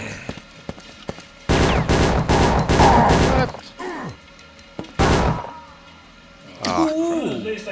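Bursts of rapid gunfire in a multiplayer shooter played at a game night on a DEC Alpha computer, loud and dense for a couple of seconds, then sharper isolated shots, with people talking and shouting nearby.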